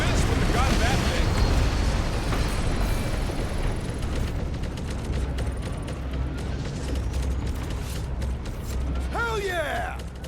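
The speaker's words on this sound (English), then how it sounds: "Wait for the boom! Last dropship's going down!" A dropship explodes and goes down in the Guardians of the Galaxy video game, a loud, sustained rumbling blast with mechanical creaks and debris that stays heavy for the whole stretch, with voices talking over it.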